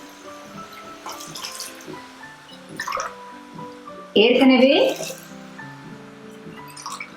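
Water is poured into a pressure cooker for lemon rasam, a short, splashy gush lasting under a second that stands out above a voice talking and a faint background tone.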